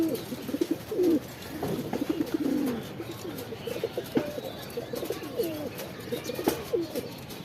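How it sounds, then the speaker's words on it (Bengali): Pigeons coo nearby in soft repeated throaty phrases, several birds overlapping, with occasional faint rustles. "এটা দেখছেন, এটা কাউয়া জাতের কবুতর।"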